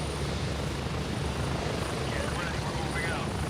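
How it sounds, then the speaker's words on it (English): Helicopter ride in the military shooter game Gray Zone Warfare, a loud, constant rotor and engine roar filling the whole clip with no letup. "this helicopter ride's gonna be loud"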